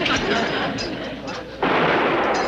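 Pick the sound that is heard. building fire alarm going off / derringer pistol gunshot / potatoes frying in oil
derringer pistol gunshot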